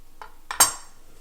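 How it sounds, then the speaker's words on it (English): A few light chef's knife taps and scrapes against a cutting board while slicing with a rolling motion, three quick contacts with the last one sharper and louder, no talking. "if you want to do slices, you're gonna do that rolling motion."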